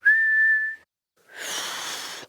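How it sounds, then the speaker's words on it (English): A single clear whistled note is held for nearly a second. After a pause, a breathier, airier whistle follows, alone with no talk. "I'm whistling"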